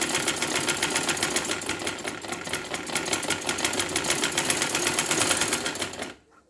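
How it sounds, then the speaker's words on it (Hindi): A sewing machine runs a fast continuous double stitch along a garment neckline, a loud, close, even mechanical whir that stops abruptly near the end. "ये डबल सिलाई कर रही हूँ मैं ताकि ये पलट ना जाए।"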